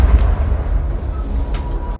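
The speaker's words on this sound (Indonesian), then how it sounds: "tiba-tiba salah satu mobil polisi meledak" A police car explodes in a film scene, a loud rumbling blast with heavy low-end roar sustained throughout, ending in a sudden cutoff.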